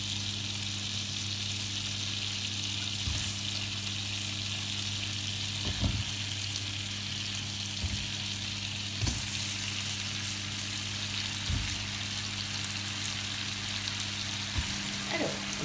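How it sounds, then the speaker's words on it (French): Two kilograms of apples fry and brown in caramel in a pan for a tarte Tatin, with a constant sizzle broken by several soft knocks and stirring clatters. "mes pommes sont en train de gentiment colorer"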